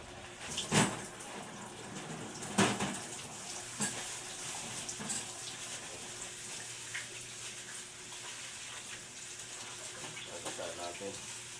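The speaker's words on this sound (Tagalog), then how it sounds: "Hugasan muna natin yung isda." Water running while fish is washed, a faint continuous splashing stream with a few louder splashes and clunks, with a voice talking quietly over it.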